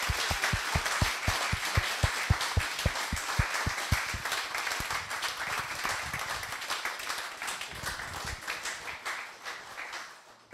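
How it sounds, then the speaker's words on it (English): A graduation-ceremony audience applauds the MonitAir app team at a Northcoders graduation, steady dense clapping with some sharp nearby claps, sustained for about ten seconds before tapering off. "final round of applause goes to MonitAir!"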